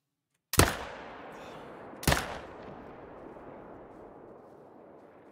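Two sharp rifle shots in a deer hunting video game aimed at fallow deer, each a loud crack followed by a long rolling echo, about one and a half seconds apart.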